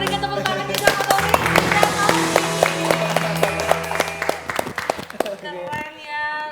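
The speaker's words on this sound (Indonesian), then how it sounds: "Ya udah ya, kita berikan tepuk tangan juga sama Tommy." An audience claps in applause at a stage show. Sharp claps ring out over music and voices, then fade after a few seconds.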